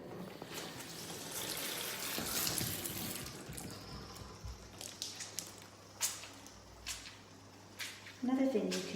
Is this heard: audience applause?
no